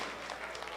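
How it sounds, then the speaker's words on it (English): Brief burst of steady applause from an audience at a networking event, dense and continuous throughout. "A big round of applause for Sebastian"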